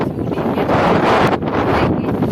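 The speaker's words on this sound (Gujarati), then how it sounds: "બહુ પવન આવ્યો" Strong storm wind buffets loudly and steadily against the microphone, a continuous rough roar with brief gusty dips.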